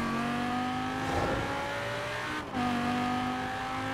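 A Lamborghini in Forza Horizon 4 drives with a steady, loud engine drone, its pitch holding, dipping briefly, then rising again after a short break, with no talk over it.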